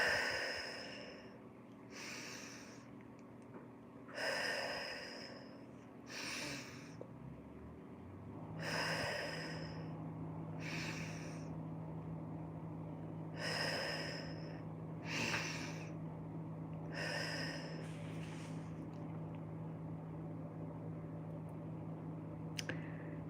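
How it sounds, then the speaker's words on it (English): Slow, deep breaths repeat about ten times at even intervals, each a soft breathy inhale or exhale heard close and alone over a faint low background hum. "Let's do some deep breaths."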